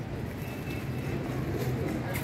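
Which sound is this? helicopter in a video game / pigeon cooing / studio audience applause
pigeon cooing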